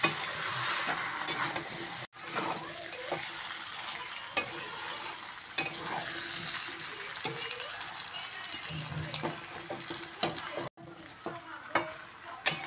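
Chicken and potatoes frying in oil for a chicken gravy, a faint, steady sizzle broken by repeated stirring scrapes and knocks of a spoon in the pan.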